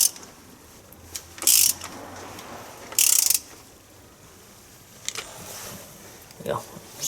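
Ratchet tightening a locking nut on the water pump of a Dennis Dart bus, heard as two loud bursts of rapid clicking with a few fainter mechanical clicks and light handling noise between them.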